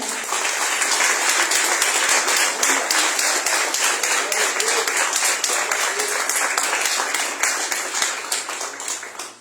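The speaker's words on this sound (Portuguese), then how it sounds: "Aplauda o Senhor." A church congregation applauds steadily through a worship service, dense sustained clapping filling the room at an even loudness before tapering slightly at the end.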